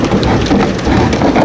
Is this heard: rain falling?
yes